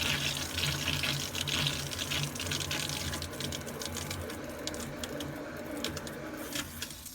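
Water rushes steadily out of the opened valve on a Rusco spin-down sediment filter, a continuous loud gushing hiss close by that eases slightly toward the end.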